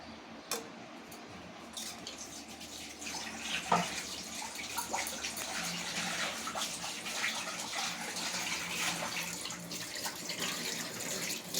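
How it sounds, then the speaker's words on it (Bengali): Water from boiled drumstick leaves being drained off, a steady close pouring and splashing stream running alone for several seconds, with a few brief knocks at the start. "এই জলটাকে ফেলে দিতে হবে"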